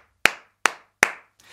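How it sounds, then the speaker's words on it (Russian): Three sharp, single hand claps ring out at an even pace, each with a short echo, then a soft fourth sound. "Наши аплодисменты специалистам и рабочим."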